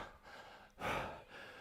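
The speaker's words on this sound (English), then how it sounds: "Heavy breathing." A heavy, breathy gasp after a hard workout set, one loud exhale in the middle framed by softer panting, close to the mic with no speech.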